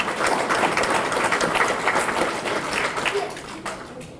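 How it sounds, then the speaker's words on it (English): A banquet crowd at an annual memorial banquet applauds in a thick, continuous patter of many hands, strong at first and tapering slightly toward the end, with a few sharper claps standing out. "Give Madeline a round of applause"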